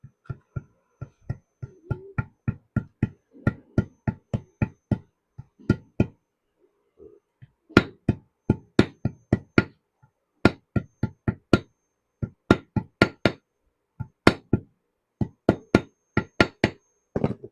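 Dozens of sharp hammer knocks seating an old bicycle fork part flat onto the new one during an OSU fork setup, struck in quick uneven bursts with short pauses, close and loud with no talking.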